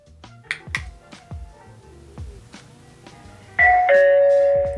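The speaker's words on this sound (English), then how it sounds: "Doorbell works." A Bosma X1 home security doorbell rings with a bright two-tone electronic chime over light background tapping, the sustained tones loud and close near the end.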